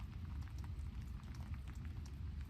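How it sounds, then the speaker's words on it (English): Light rain patters steadily, a soft, even hiss of raindrops falling close by, faint and continuous with no other sounds. "I don't know if you can hear the little raindrops or not"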